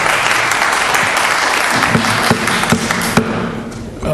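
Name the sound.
audience applause at a county commissioners meeting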